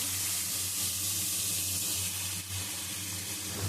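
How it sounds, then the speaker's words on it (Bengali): Vegetable stems frying in hot oil, a continuous loud hiss and sizzle held evenly throughout with a low steady hum beneath and no talking. "সবজিগুলো ভেজে নিচ্ছি আলাদা আলাদা করে।"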